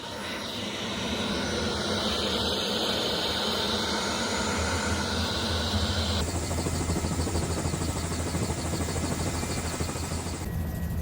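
A helicopter lifts off over New York City, its rotor and turbine roar steady, loud and close from the cabin, with a broad whine that rises as it climbs and stays constant throughout.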